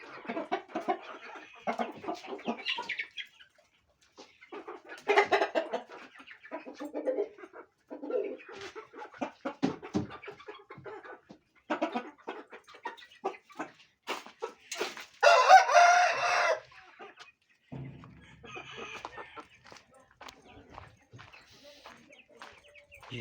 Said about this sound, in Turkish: İspençleri görüyorsunuz.